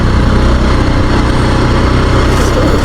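A Yezdi Adventure motorcycle engine running while the rider leans into a corner, a loud, steady, throbbing exhaust drone close to the mic with a slight rise near the end.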